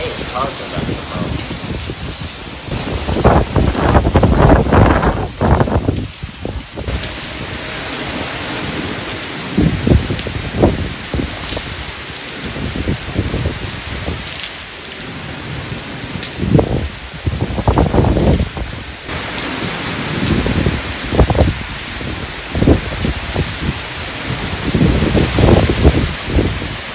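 Heavy hurricane rain and gusting wind from Hurricane Delta's eye wall in Mexico roar steadily outside, a loud continuous wash with surging bursts, while people talk intermittently beneath it.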